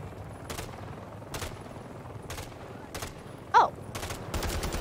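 Gunfire from the Modern Warfare 3 video game campaign comes as spaced single shots, roughly one a second, moderately loud over a low background rumble, with one brief vocal blip partway through.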